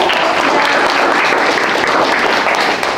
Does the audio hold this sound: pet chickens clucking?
no